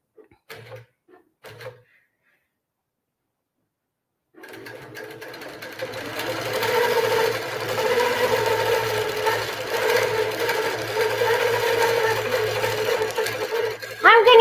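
Grace automated quilting machine stitching: after a few brief clicks and a silent pause, a steady, loud mechanical stitching hum starts and runs continuously and close up.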